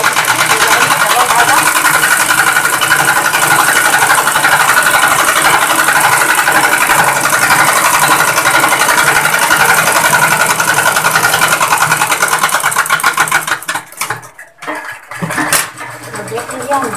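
A sewing machine stitching a suit at a ladies' tailor shop runs loud and steady for about thirteen seconds, then cuts out into scattered short bursts.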